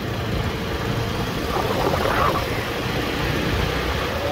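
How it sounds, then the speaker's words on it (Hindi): Motorbike ridden along a road, giving a steady rushing engine and wind drone that swells slightly midway, continuous and moderately loud, with no talk. "बाइक चला रहा हूँ, सॉरी"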